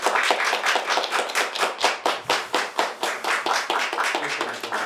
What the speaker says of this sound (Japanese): じゃあ皆さん大きな拍手でお願いします。